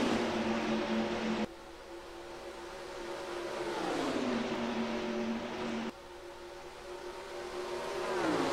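NASCAR Racing 2003 stock cars at Auto Club Speedway under green flag, a steady engine drone that rises and falls in pitch as cars pass and shift, moderately loud with no talking.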